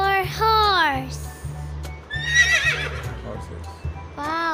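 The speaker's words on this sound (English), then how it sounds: "H for horse." A horse whinnies in clear, rising and falling calls at the start, midway and the end, over a steady rhythmic children's song backing with a child-like voice.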